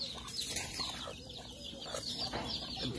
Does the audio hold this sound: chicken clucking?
yes